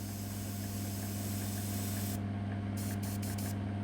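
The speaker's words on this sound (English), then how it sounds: "always give your airbrush a bit of a squirt just with air to get any residual paint out" Airbrush spraying paint onto a model railway wagon, a continuous close hiss of air over a low steady compressor hum, with short breaks in the spray near the end.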